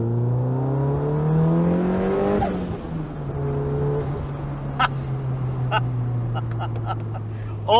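A Nissan Pulsar GTi-R engine revs while driving, climbing through gears with rising harmonic whine then settling into a steady drone, with a few sharp clicks and knocks near the end.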